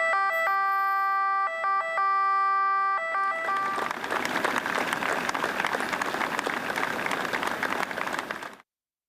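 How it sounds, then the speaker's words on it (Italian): Fire engine sirens sound a repeated two-tone wail at a funeral. Loud, sustained crowd applause then takes over and swells until it cuts off abruptly. "hanno voluto salutare Pietro per l'ultima volta con le sirene dell'autopompa e l'applauso della folla è diventato scrosciante"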